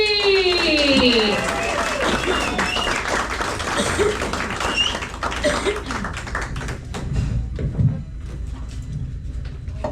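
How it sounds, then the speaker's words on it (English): A comedy club audience at Bill's Steakhouse breaks into applause and cheering for a performer, a dense wash of clapping that runs the whole stretch, loud at first and easing toward the end, with voices mixed in. "everybody give a big round of applause for Miss"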